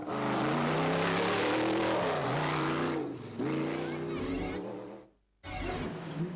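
Rally cars set off at the start of the Toyota Dealer 400 in 2011, engines roaring and revving loudly, pitch rising and falling as they pull away, with a spectator crowd and commentary voice underneath.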